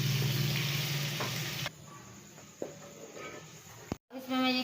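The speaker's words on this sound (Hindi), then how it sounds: "तो जी फ्रेंड अब इसमें मैं पालक को ऐड कर रही हूँ" Fresh spinach dropped into a hot cumin and black pepper tempering sizzles loudly at first, then settles into quieter frying with a few clatters of utensils.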